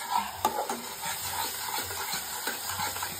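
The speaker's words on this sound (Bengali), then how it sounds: "এখন আমি মশলাটাকে ভালোভাবে কষাবো" Spice paste with green chilli being sautéed in a pan: a soft steady sizzle under occasional scraping strokes of a spoon against the pan, close and moderately quiet.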